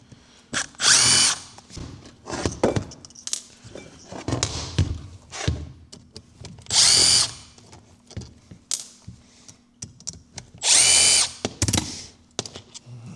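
A power drill removes the four corner screws from a diaphragm pump during repair, giving three loud whirring bursts, each about a second long, separated by quieter clicks, clatter and small handling noises.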